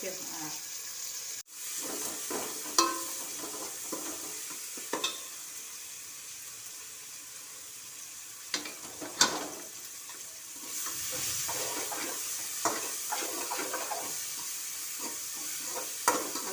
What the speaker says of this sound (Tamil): வதங்குது பாருங்கள் தக்காளி நல்லா மசிச்சு வரணும்